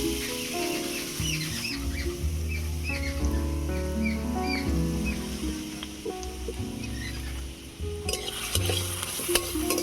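Chopped onions frying in mustard oil in a kadai, stirred, under loud music with melodic notes that largely mask a steady sizzle.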